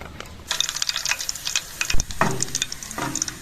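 Ginger sizzling in hot oil for a tadka, with crackling bursts and a steady hiss, plus a few clinks of a utensil against the pan.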